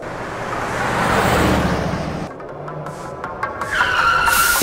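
A vehicle in the video game Shrapnel approaches and pulls up, its engine rumble and road noise swelling, then easing as it stops, with a brief tire-skid texture and some faint clicks and a tonal game sound at the end.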